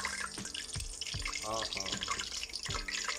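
A continuous crackling sizzle of hot oil in a pan fills the background, with someone talking briefly over it.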